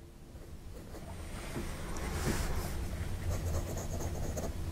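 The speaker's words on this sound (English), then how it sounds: "this is Fabriano paper, which has a little bit of texture on the surface, so it's going to accentuate any noise from the nib" Fountain pen nib from a late-1950s Conway Stewart Model 106 scratching across textured Fabriano paper, a soft continuous papery rasp with faint stroke-to-stroke variation, close and quiet, no voices.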